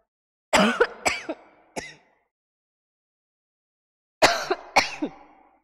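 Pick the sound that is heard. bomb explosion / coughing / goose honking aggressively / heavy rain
coughing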